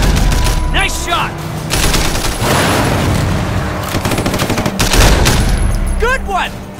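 Heavy gunfire in Sleeping Dogs during a vehicle chase, rapid automatic bursts and booming shots rattling continuously, loud and close, with ricochet-like whines near the start and end.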